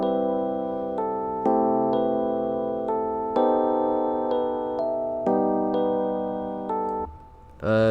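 Soft pluggnb-style piano melody from the Pretty Suitcase electric piano plugin, sustained chords changing roughly every second, steady and clear, ending with a brief noisy burst.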